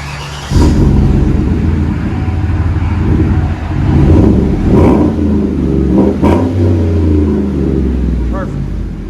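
2016 Chevy Silverado 5.3L V8 with dual Magnaflow Magnapack exhaust, revving several times in loud, deep bursts that swell and fall over a steady rumbling idle, recorded close by.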